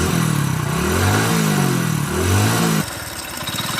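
A motorcycle with a healthy, sound engine revs up and down a few times in smooth swells, then drops to a steady, even idle, heard close and loud without any talk.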